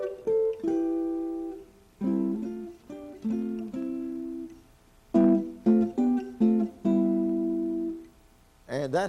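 A guitar plays three-note triad chords in chord-melody style, a series of clear plucked chords, each ringing briefly, played alone in a quiet room.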